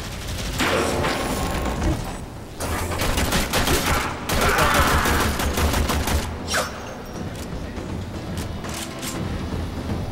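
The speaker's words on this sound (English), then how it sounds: "Firing your weapon." Weapons firing in Warframe: loud, rapid volleys of shots in clustered bursts, with brief gaps between the barrages and a mechanical clatter underneath.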